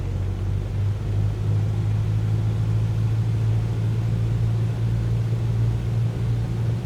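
A Cessna 152 training aircraft turning toward the runway gives a continuous, loud, low engine drone with a strong steady hum and a broad rumble. The sound holds evenly throughout with no talking over it.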